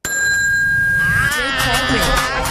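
A bright bell rings steadily with a high sustained tone, joined partway through by a voice singing or talking over it.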